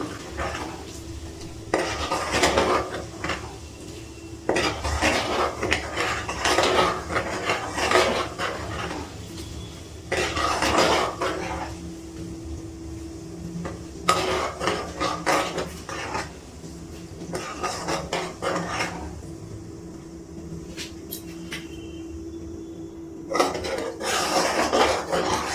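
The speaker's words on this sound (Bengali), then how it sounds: "আর একটু নাড়াচাড়া করে জাল দিয়ে নিচ্ছি।" Milk cream being heated and stirred in a pot to make ghee, with repeated bursts of metal spoon scraping and clattering against the pot over a soft bubbling simmer, close and fairly loud, pausing between rounds of stirring.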